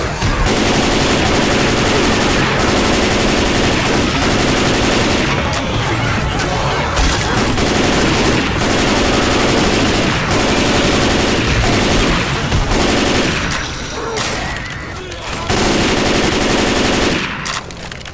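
Dense, loud gunfire from the video game Left 4 Dead 2 rattles almost without pause, rapid automatic bursts layered with shots and brief gaps, with voices calling out underneath.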